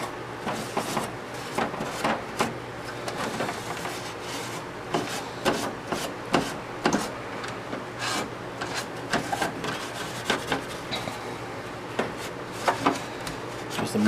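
A cloth wipes dust from an Alienware Aurora A4 PC case in close, repeated rubbing strokes, with soft scrapes and light knocks against the panels over a faint hum.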